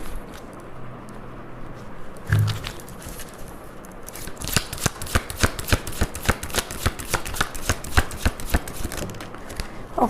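True love oracle cards being shuffled during a Hindi tarot reading, a quiet rustle at first, then a long run of rapid, crisp riffling flicks that carry on steadily to the end, with no voices.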